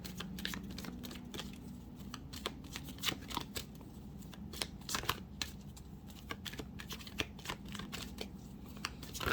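Tarot cards riffled and shuffled by hand, a steady run of soft crisp flutters and light taps at close range, moderately quiet over a low room hum.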